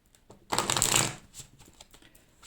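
A small deck of cards being shuffled and gathered up, a loud close riffle burst followed by softer rustling and tapping as the cards are put away.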